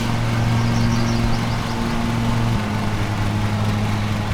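Steady lawn mower engine drone from the video game Lawn Mowing Simulator, a loud continuous hum with an even pitch that drops slightly partway through, no voices.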